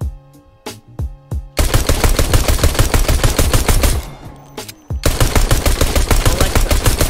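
Rapid-fire gunshots in the video game Fortnite, set off by an Alexa voice macro: a few separate shots, then a long, loud, evenly spaced burst, a brief break, and another sustained volley.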